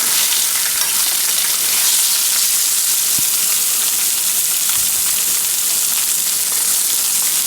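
Salmon sizzles loudly in a hot pan as it browns, a steady, dense frying hiss held close up throughout with a couple of faint knocks and no talking.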